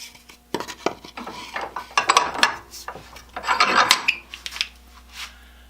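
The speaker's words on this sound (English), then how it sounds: "Flip it around, put the pilot thread in the hole. Cuts right on through." An Irwin/Jennings style auger bit boring through wood, heard as irregular scraping and rasping bursts of shaving and grinding, close and fairly loud, with short pauses between strokes and no talking.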